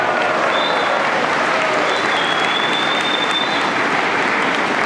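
Crowd at a DAP political launch event claps loudly and continuously, a dense wash of hands with faint whistle-like tones riding above it.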